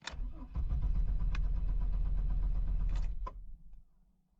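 A truck engine with a faulty crankshaft position sensor cranks briefly, catches and runs loud and close for a few seconds, then cuts off abruptly and falls silent.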